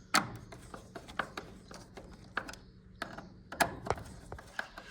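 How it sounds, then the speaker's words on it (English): A hand tool clicks and ratchets in close, quiet bursts while screws are tightened on a Gliderol garage door, with sharp taps and pauses between turns. "And do up those screws."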